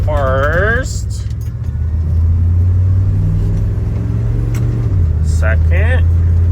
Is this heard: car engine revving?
yes